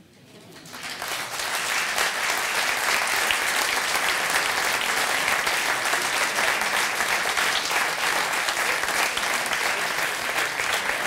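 Loud, sustained applause from a conference audience at a German TV congress, building over the first second and then holding steady as dense clapping to the end.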